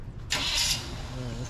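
An antique car engine cranks and catches on a street in a preserved historic district in Guthrie, Oklahoma, a brief bright starter burst followed by a low, steady idle rumble, close by, with people talking around it.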